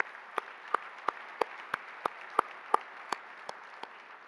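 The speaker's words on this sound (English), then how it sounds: "Let's give Kevin a round of applause." Faint, evenly spaced claps ring out at a dinner-event awards ceremony, about a dozen crisp hand claps in a steady rhythm over a low room murmur.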